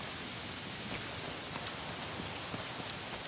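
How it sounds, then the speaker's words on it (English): Steady rain hisses in the video game Shadow of the Colossus, a dense, even wash of falling drops with faint patters, continuous and moderately quiet with no voices. "And rain."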